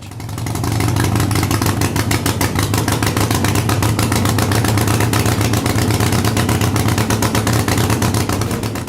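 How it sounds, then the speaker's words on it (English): A motorcycle engine with an S&S carburetor running rich runs steadily for the whole stretch with a low, muffled, dull, flat exhaust note and an even pulsing rhythm, loud and close. "the engine runs sluggishly. Note that the exhaust has a dull sound."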